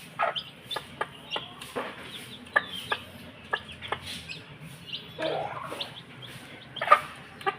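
A backyard hen clucks repeatedly with short, sharp peeping calls from newly hatched chicks of a pumpkin-hatch breed, close and fairly clear, with intermittent bursts and a louder squawk near the end.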